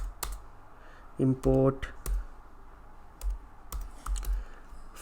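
Computer keyboard keys clicking in short irregular bursts while code is typed, with a voice briefly speaking between the keystrokes.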